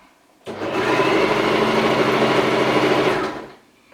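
A sewing machine running a long stitch while sewing a dress, a steady close whirring hum lasting about three seconds with an abrupt start and a fading stop.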